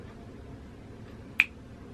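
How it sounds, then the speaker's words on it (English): A single crisp finger snap rings out once, close and sharp, against a quiet background with no other sounds. "Snap, snap, clap, clap."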